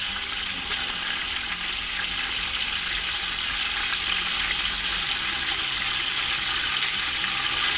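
Water poured into a bowl of garlic and ginger while cooking Delhi-style nihari, a loud, steady, hissing rush that runs unbroken for the whole stretch with no voices.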